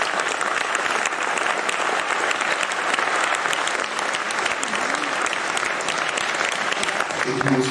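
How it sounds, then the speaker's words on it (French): Theatre audience at a French awards ceremony for a 2022 prize claps steadily and densely for a couple, filling the hall with continuous, even applause and no speech. "d'abord pour qu'on vous applaudisse"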